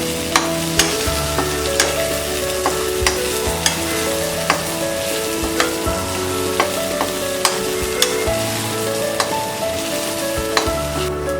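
Coriander being stirred into a cauliflower and peas curry in a kadai: steady scraping strokes over a constant sizzle, with sharp clicks of the spoon against the metal pan recurring every second or so, close and fairly loud, with no talking.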